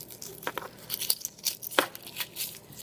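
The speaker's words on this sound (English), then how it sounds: "find where your hole is in the egg and just peel all around" Shell being peeled by hand from a hard-boiled egg, with a run of small, close crackling and tearing bursts spread irregularly across a few seconds.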